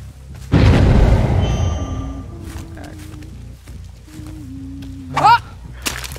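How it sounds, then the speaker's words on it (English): A loud sharp boom from a sniper shot in a video game hits at once, followed by a decaying blast, game sound effects and tones, and brief voices. "I fucking sniped him for you"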